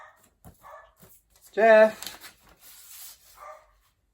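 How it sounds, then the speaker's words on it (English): A single short bark from Jeff, a household dog, rises over a conversation, a loud harmonic burst lasting about half a second while people talk before and after. "Jeff's heard a dog."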